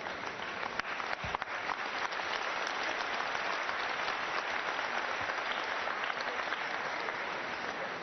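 Steady applause from a church congregation at a Paris morning water event, a dense continuous clapping held for about eight seconds at an even level, with no speech.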